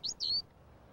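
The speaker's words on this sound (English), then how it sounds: "They sing from the ground in low perches" A Smith's Longspur sings two short, clear, high chirping notes close by, the second slightly longer with a small upward slide, then goes quiet over faint background.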